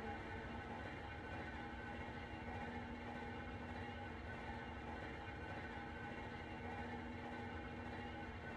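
Railway turntable rotating in the train simulator game Train Sim World, a low, steady mechanical rumble and drone that holds unchanged throughout, faint and continuous with no talking.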